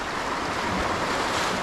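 Ocean waves wash against a jetty at Half Moon Bay near high tide, a loud continuous roar of surf mixed with wind buffeting the microphone.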